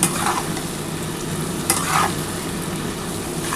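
Onions frying in a pan for mutton keema bora curry with potatoes, a steady close sizzle with a couple of brief stirring scrapes, no talking.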